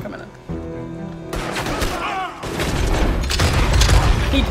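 Shotgun blasts in the video game Red Dead Redemption, with loud booming reports that begin abruptly and roll into a heavy, sustained din of gunfire and rumbling.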